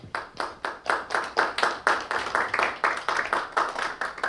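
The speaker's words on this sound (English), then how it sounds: "There are people here clapping." Audience applause after an academic talk on affective polarization, a steady rhythmic clapping from a small room, fairly loud and close, with no talk over it.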